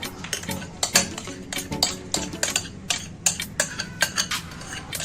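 Metal spoon scraping and tapping against a bowl while emptying out a creamy fruit chaat mixture, a run of quick irregular clinks and scrapes, close and fairly quiet with no talking.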